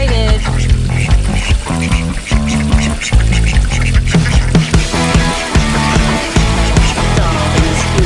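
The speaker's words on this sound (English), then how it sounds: "his cute little quacking" A pet duck quacks in a backyard at pool time, its calls loud and close, repeated in bursts over a dense mix of other busy sounds.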